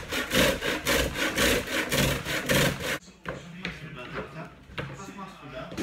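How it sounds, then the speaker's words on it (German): Bread grated into breadcrumbs by hand, heard as a loud, rapid, rhythmic rasping scrape for about three seconds, then quieter handling noises and a voice talking. "Paniermehl reiben."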